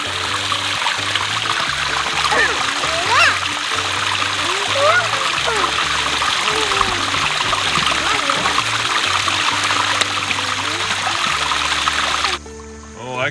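Children splash and wade in a small creek, with continuous trickling, running water and scattered splashes, while kids' voices and adult talk carry on over the flowing stream.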